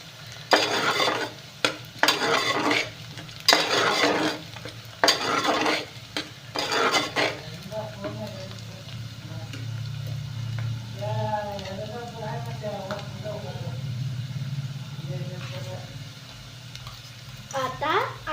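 Onion and ginger-garlic paste being stirred and roasted in a pan: sharp bursts of spoon scraping and clatter come first, then a low steady sizzle continues under a person talking.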